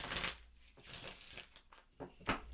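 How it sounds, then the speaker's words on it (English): Tarot cards being shuffled by hand in a few short papery bursts, close and fairly quiet, with no talking over them. "Couple more shuffles."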